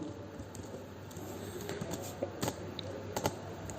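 Steady clicking of C code being typed on a computer keyboard, a quick run of keystrokes with a few sharper, louder taps, close up with no talking.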